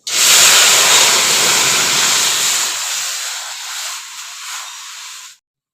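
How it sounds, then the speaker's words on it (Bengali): Cold water poured into a hot kadai while making a sweet-sour jujube pickle bursts into a loud, close steam hiss that fades gradually over about five seconds, with no talk. "এই কড়াইয়ে দিয়ে দিব ঠান্ডা জল"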